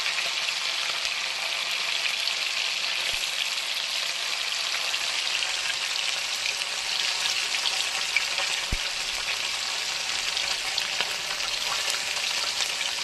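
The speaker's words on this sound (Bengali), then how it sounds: "অল্প অল্প করে ভাজবো" Bhola fish frying in a pan, a steady dense sizzle of hot oil that holds evenly from start to finish with no talk.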